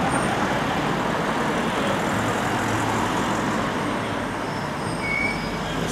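Steady road traffic at the Headingley Lane and Bainbrigge Road junction, a continuous broadband rumble of passing cars with no distinct pauses and no voices.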